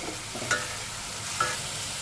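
Onion frying with little oil in a pan for aloo gobi curry, a steady soft sizzle with two brief spatula clinks against the pan, continuous and close with no talking.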